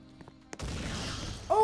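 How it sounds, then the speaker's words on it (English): An explosion erupts in a sinking ship's engine room in a video game about the Wilhelm Gustloff, a sudden boom after a quiet moment followed by a sustained rumbling roar. "I see the explosion in the engine room."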